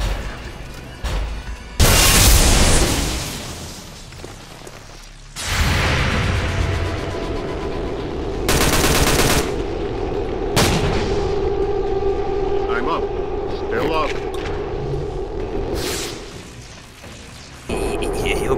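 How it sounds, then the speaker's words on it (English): Gunfire and heavy explosions in an XCOM-style video game, loud separate bursts and booms scattered through the clip, with people talking between them. "What the fuck is he shooting at?"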